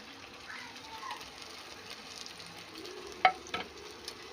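Ground spices frying in oil in a pan for a spicy fish curry: a faint, steady sizzle with stirring scrapes and a couple of sharp utensil knocks near the end.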